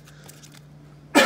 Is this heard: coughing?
yes